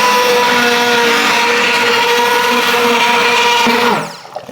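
A blender purées cooked vegetables and broth with a loud, steady motor whir that holds for about four seconds, then spins down and stops near the end.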